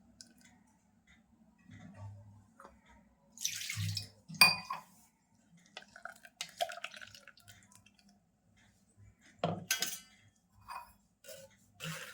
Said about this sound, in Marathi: आता आपल्याला या वाटणामध्ये असं पाणी ओतून